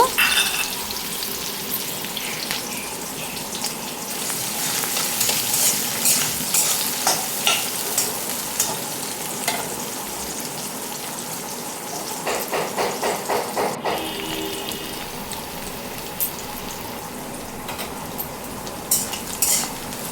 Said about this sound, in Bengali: পেঁয়াজগুলো দিয়ে দিচ্ছি পেঁয়াজগুলো লাল করে ভেজে নেব